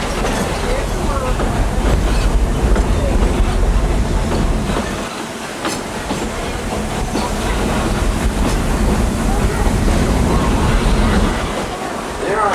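A steam train on the Walt Disney World Railroad rumbles along the rails with continuous clattering and a brief lull midway. Muffled voices are faintly present.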